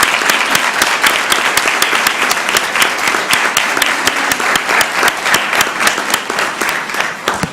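Applause from the audience at a Columbus, Georgia city council meeting, a dense, steady crowd clapping that carries on for the whole stretch without talk.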